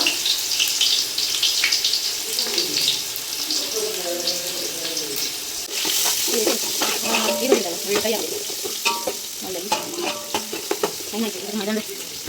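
Onions and curry leaves are stirred in a hot pan for basale pundi, a Tulunadu dish, with steady sizzling and scraping spoon strokes throughout, near and continuous, with a hint of background water.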